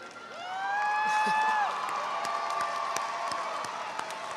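A commencement ceremony audience applauds the faculty, with a broad wash of clapping and cheering that swells and holds steady, topped by a few loud rising whistles and whoops near the start.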